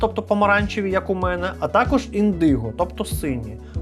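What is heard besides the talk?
No distinct noise like a dog, phone or traffic.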